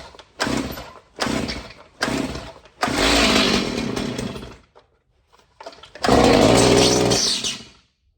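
Stihl 029 Super chainsaw with a loose chain, close and loud: several short bursts of engine revving separated by pauses, a longer run, a quieter stretch, then a final strong roar.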